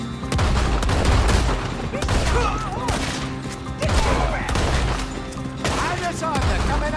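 Sustained gunfire in Red Dead Redemption 2 rattles in overlapping volleys throughout, with loud, closely spaced shots and voices calling out between the bursts.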